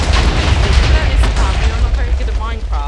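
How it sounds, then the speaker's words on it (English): Explosion in the Minecraft game Missile Wars, a loud booming blast with heavy low-end rumble that fills the whole moment, dense and sustained with crackling debris on top. "They got an explosion."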